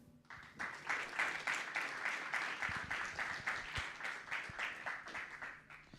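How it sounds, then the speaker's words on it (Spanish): A seated audience at a science talk on ideology gives a speaker a long round of warm, steady applause, dense clapping that swells and holds for several seconds, heard from within the hall. "Lo recibimos con un enorme aplauso"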